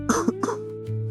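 Someone coughs and clears their throat after biting into a very spicy vada pav stuffed with red chilli. Two or three harsh, close coughs are followed by a low voiced sound.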